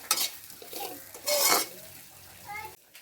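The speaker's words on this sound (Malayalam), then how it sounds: "സോയാബീൻ വറുക്കുന്നുണ്ട് പല പൊരിക്കുന്നുണ്ട്" Soybeans fry in a pan at home, with bursts of sizzling, stirring and clattering cookware, and faint voices briefly in the background.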